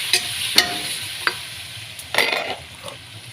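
Mutton cooking with masala spices in a pot, heard as a soft, low sizzle broken by a few sharp clinks and scraping stirs, close and fairly quiet, with no voices.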